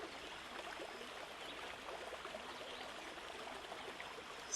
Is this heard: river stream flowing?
yes